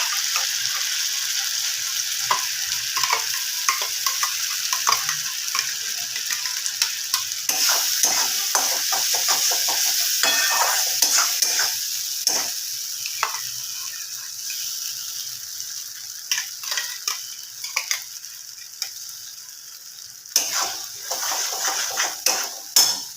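Ground spice paste frying in a pan for egg curry, a bright sizzle with frequent scraping and clattering stirring strokes against the pan, close and continuous, no talking.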